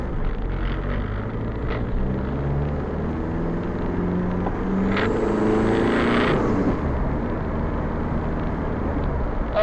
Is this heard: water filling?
no